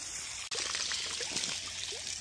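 Hot water runs out of a garden hose beside a pond, a soft, steady trickle and splash with faint bubbling detail, continuous and fairly quiet, briefly cut by a sharp dropout near the start.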